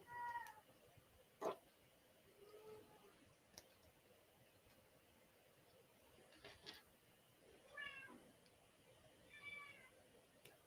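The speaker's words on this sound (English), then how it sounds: "You guys hear the cat?" A house cat meows softly and at a distance several times over a quiet room, with clear gaps between the calls and a faint click or tap in between.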